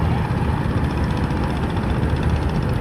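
A trawler's engine running fast on the water as it races to reach a passenger launch on the Ilisha route, a loud, steady low rumble with constant churning noise throughout.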